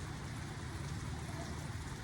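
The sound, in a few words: rain falling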